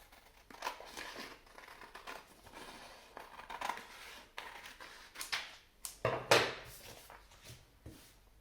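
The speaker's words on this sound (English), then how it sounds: "we're going to take our scissors and we're going to cut along the short" Scissors cut along the short edge of a sheet of origami paper, a run of close, crisp snips and slicing sounds with some paper rustle, growing louder near the end, with no speech.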